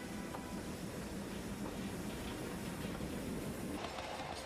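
A train runs on the Hejaz Railway with a continuous rolling rumble and faint rhythmic clatter of wheels on track, steady and moderately loud.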